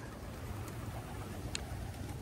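Racing pigeons at a loft give soft, faint coos over a low background hum, with no speech.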